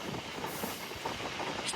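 A MEMU passenger train running between Bhimavaram Junction and Nidadavolu as it accelerates, heard from on board as a steady broadband rumble and hiss with faint rhythmic wheel clatter, moderately quiet and continuous.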